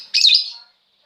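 A single short, bright chirp from a male lovebird, close and clear, followed by silence.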